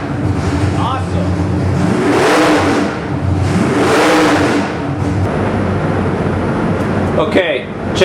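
A Nelson Racing Engines 441 cubic-inch nitrous small-block Chevy hot rod engine with a 1050 CFM custom carburetor revs up and falls back twice, loud and close, then idles steadily.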